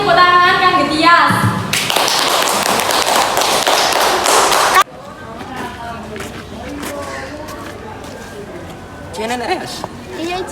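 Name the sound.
applause for Tias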